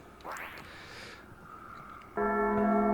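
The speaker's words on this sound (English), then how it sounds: "You can make the bell ring, which is cool." A church bell rings in the video game Uktena 64, a bright sustained metallic tone striking in near the end after a few faint scrapes and a short whistling swell.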